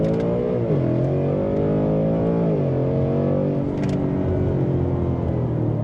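A Ford Mustang GT S650 accelerates hard at full throttle, its engine note climbing loud and close with brief dips at two gear changes before rising again.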